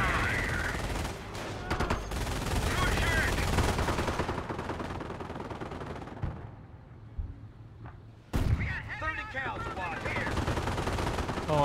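Machine-gun bursts and single shots crackle through a Company of Heroes battle, dense and loud at first, then dropping to a brief lull before the firing resumes in heavy volleys.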